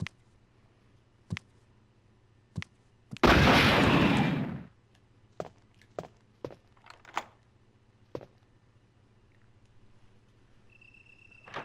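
A rocket launcher in Resident Evil Director's Cut, a PS1 game, fires one loud, roaring blast lasting about a second. Sharp, sparse gunshot-like cracks fall before and after it over a quiet hum.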